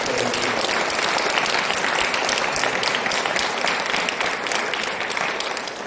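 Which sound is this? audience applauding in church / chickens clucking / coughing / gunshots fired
audience applauding in church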